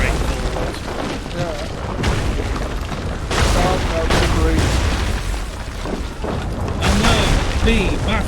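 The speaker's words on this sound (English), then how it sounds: "And not get hit by cannons." Cannons boom repeatedly during a ship battle in Assassin's Creed III, loud blasts mixed with chaotic game noise while people talk throughout.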